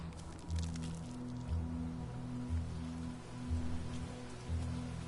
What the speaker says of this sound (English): Started raining. No effect whatsoever on the game.